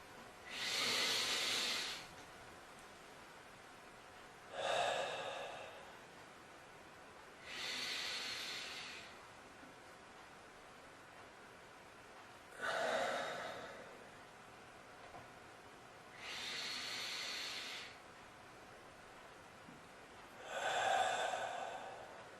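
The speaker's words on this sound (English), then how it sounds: "you start off by taking between 3 and 5 really good massive breaths in" Six deep, forceful breaths drawn in through the mouth, evenly spaced a few seconds apart, close and fairly quiet, each a rushing airy hiss lasting one to two seconds.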